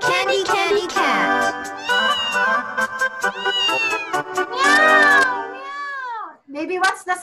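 A voice imitates a cat's meow in a children's phonics chant, with repeated sung and spoken "meow" sounds mixed with a child's and an adult's voices, close and fairly loud throughout.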